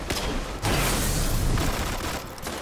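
Lingering Song hand cannon in Destiny firing, a few heavy booming shots with a rough blast tail, loud and close with no talk.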